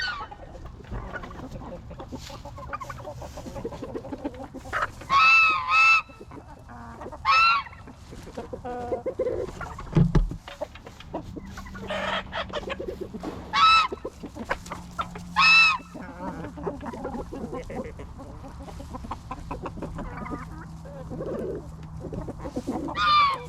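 Chickens cluck and call near and far in a coop, with several louder squawks in bursts over soft scratching and rustling in the litter.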